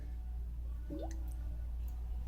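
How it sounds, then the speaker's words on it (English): An air bubble escapes from a container held underwater, making a single short gurgling bloop with a rising pitch. A few faint tiny plinks follow, all over a low steady background hum. "Notice that there's going to be an air bubble leaving okay?"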